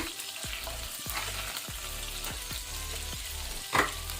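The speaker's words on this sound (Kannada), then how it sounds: "ಇದನ್ನು ಸ್ವಲ್ಪ ಲೋ ಫ್ಲೇಮಲ್ಲಿ ಫ್ರೈ ಮಾಡ್ಕೊಳ್ಳುವ" Whole spices, cloves, cinnamon stick and bay leaves, frying gently in oil over a low flame, a steady close sizzle with a few soft stirring knocks against the pan and one brief clatter near the end.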